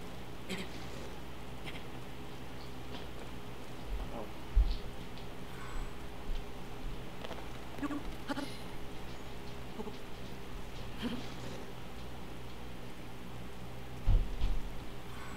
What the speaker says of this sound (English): Could the rain please just let up?